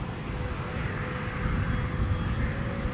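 A Delta airliner rolls for takeoff on runway 17 at Minneapolis–St. Paul airport, a steady broadband engine roar heard from a distance, slowly swelling in loudness with no voices.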